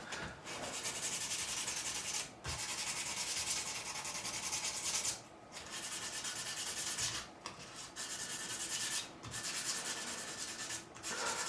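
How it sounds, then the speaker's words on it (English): Sandpaper rubbing across the frets of a 1978 Fender Stratocaster during a refret, a steady scratchy back-and-forth rasp in long strokes broken by brief pauses, close and fairly quiet with no voices. "I'm going to go across with 6 more grits"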